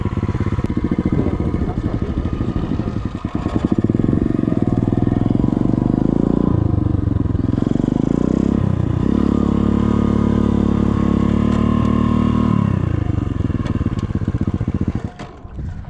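A dirt bike engine revs loudly and continuously while being ridden, its pitch rising and falling with throttle changes before dropping off at the end.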